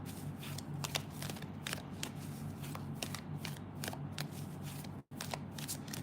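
Coffee Cup Oracle cards shuffled by hand, a close run of rapid papery riffles and slides in repeated bursts, with one brief pause near the end and no talking.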